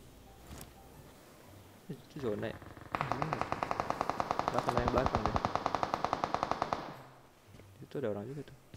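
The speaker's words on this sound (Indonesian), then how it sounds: "Oh, ada yang nembak ke belakang." Automatic gunfire in a shooter video game, a long rapid burst of evenly spaced shots lasting several seconds, with someone talking before and after the burst.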